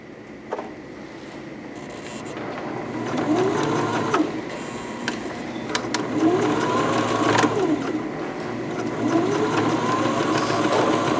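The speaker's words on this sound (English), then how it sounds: "you're going to want to go from the bottom and back stitch it, and then go up to the top and back stitch it back" A sewing machine runs in bursts while back stitching pockets on a fabric ditty bag, its motor whirring and rising in pitch with each pass, with light clicks between.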